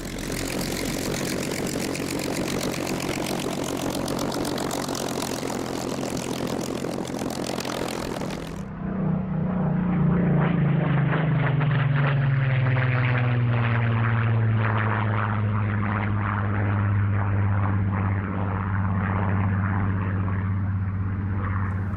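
A 1944 Spitfire PR19 photo reconnaissance aircraft with a 2,050-horsepower Rolls-Royce Griffon 65 engine, heard at an air show as a loud, steady engine roar that shifts into a lower, descending drone as it passes.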